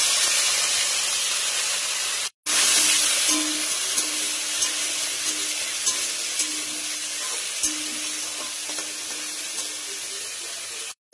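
Dried chilli, curry leaves and cumin seeds hit hot oil for a Bengali biuli dal and sizzle loudly and continuously, with a brief break near the start, close up and with no voices.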